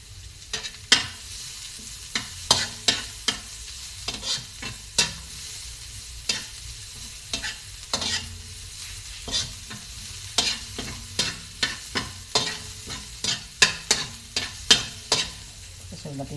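Peeled garlic sizzles in hot oil while a utensil stirs and scrapes the pan in a steady run of crisp, close clacks, with the fry hiss continuing underneath and no talking.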